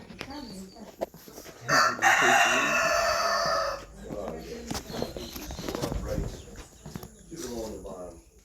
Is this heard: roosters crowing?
yes